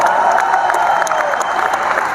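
A crowd at an RCM 24th anniversary celebration in Delhi claps during a speech, a loud, dense, steady burst of applause with many hands close together and no talking over it.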